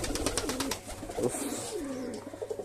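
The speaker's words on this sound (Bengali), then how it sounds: "এটা হচ্ছে নর কবুতর। এটা ডাকাডাকি করতেছে।" A male pigeon coos close by with soft, throaty, rolling calls repeated in a steady rhythm, alongside light rustling and fluttering.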